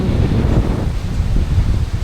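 Strong wind roars and buffets the microphone continuously, with a dense rushing hiss that could include heavy rain.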